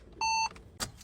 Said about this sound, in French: Normalement, tu devrais entendre un petit bip.